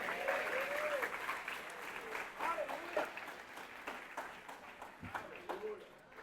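A church congregation at an evening congress applauds with scattered, moderately faint clapping while voices call out over it.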